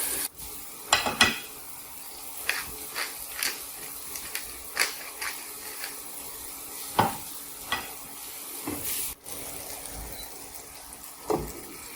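A salmon fillet fries in a hot pan, a steady soft sizzle broken by intermittent scraping and clinking as the fish is turned on its sides, close and moderately quiet with no talking.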